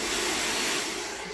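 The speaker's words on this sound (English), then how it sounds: "all I am going to do now with my hairdryer is I am going to just blow it around a bit" A hair dryer blowing over poured acrylic paint, a loud continuous airy roar close to the mic, with no talking.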